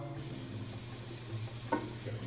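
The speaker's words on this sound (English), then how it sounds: "You guys hear that sizzle, bro?" Banana slices sizzle softly in a pan as their sugar caramelizes, a steady low crackle with a brief scrape or pop near the end and no talk.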